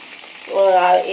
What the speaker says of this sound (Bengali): পটল আলুগুলো ভাজা ভাজা হোক